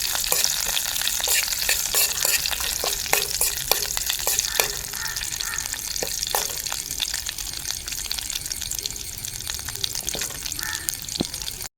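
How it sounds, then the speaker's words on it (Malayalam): Tempering for Kerala-style cucumber pachadi frying in a pan and stirred until browned, a bright, steady sizzle close up with frequent scraping and clinking spoon strokes throughout. "എന്നിട്ട് നല്ലപോലെ ഒന്ന് ഇളക്കി കൊടുക്കുക ഓവർ കരിഞ്ഞു കൊണ്ട ഏകദേശം ഒരു ബ്രൗണിഷ് കളർ ആവുന്നവരെ ഒന്ന് ഇളക്കി കൊടുക്കുക"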